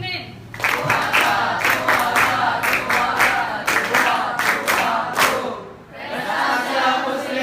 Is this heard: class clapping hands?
yes